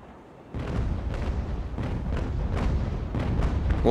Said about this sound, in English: We'll do a couple of broadsides and then we'll start graping them.